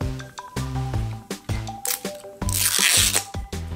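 Plastic wrapping on a LOL Surprise doll ball crinkles and tears in a few short, close bursts, with a louder rustling stretch near the end, all over steady background music.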